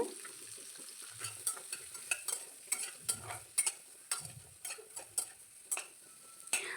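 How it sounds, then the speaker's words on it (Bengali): Sliced carrots frying in hot oil in a pan, a steady soft sizzle broken by regular clicks and scrapes of a spatula stirring, close and fairly quiet, with no talking. "এবার ওই একই তেলে আমি দিয়ে দেব গাজর। গাজরটাকে আমি 2 মিনিট ধরে ভেজে নেব।"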